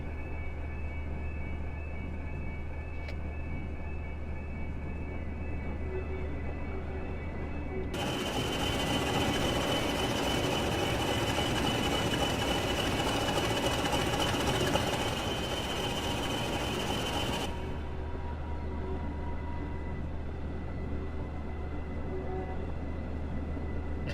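Locomotive diesel engines running, with a steady low idling rumble that swells into a louder, rougher roar for several seconds before settling back to the quieter idle.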